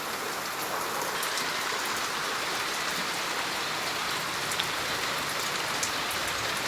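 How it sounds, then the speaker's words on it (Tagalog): Heavy rain pours down without letup, a dense, steady hiss of drops striking surfaces, close and even throughout with no voices. "lakas pa rin ng ulan."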